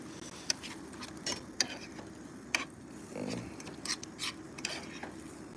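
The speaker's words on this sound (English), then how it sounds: "I scramble my eggs inside the frying pan." Eggs are scrambled in a frying pan at a campsite. A utensil scrapes and taps against the pan in irregular strokes over a soft, steady sizzle, close up with no talk.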